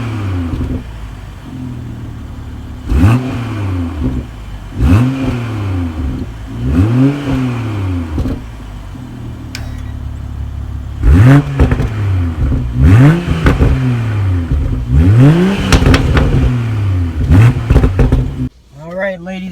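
A 2020 BMW M340i engine revving hard through repeated gear pulls while driving, each rise in pitch climbing and dropping at the shift, loud and close, with brief clatter and an abrupt cut near the end.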